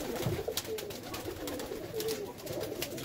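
Birmingham Roller pigeons in a loft, soft low cooing repeating in a steady murmur, close but faint, with light rustling and clicks around the calls.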